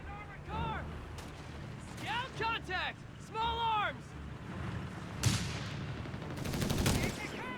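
Browning automatic rifle fire in the WWII strategy game Company of Heroes 3: bursts of gunfire and battle noise under a commentator's continuous talk, with louder impacts and sharp cracks in the second half.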